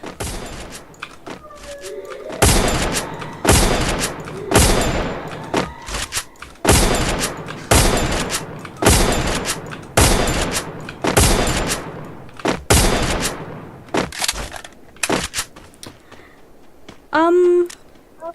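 Gunfire in a shooting video game sounds in rapid bursts of loud, repeated shots spread across the whole stretch, with short pauses between volleys and a brief electronic tone near the end.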